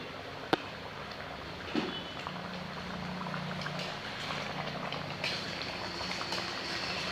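Potatoes for an egg and potato dish cook in a pan with the lid off while they are stirred, giving a faint steady sizzle with a few sharp utensil clinks.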